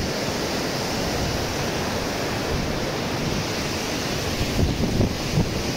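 Floodwater thunders through Prakasam Barrage in Vijayawada, a dense, unbroken roar of rushing water that stays loud and even throughout with no voices.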